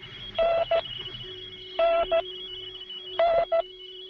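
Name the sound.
shortwave number station radio broadcast recording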